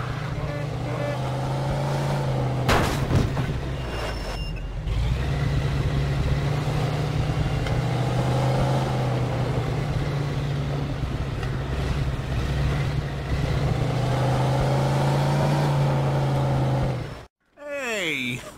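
A car in the video game Mafia 2 drives through a junkyard gate. Its engine drones steadily with shifting revs and wind noise, then cuts off abruptly near the end, and voices talk over it.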